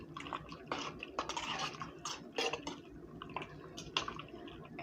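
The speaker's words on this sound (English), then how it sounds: "I'm just gonna add just a little bit more of this water" Water poured into a cooking pot of simmering chicken taco filling, a quiet run of splashy trickles and drips with soft clinks against the pot, close by and fairly faint.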